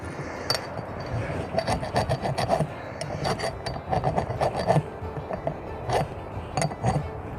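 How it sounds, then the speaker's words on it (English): The smooth side of a wood rasp scrapes an axe handle in a quick series of rough, uneven strokes, close and fairly quiet, with small clicks between passes. "I'm going to take the wood rasp, take the smooth side, and just kind of clean this off a little bit"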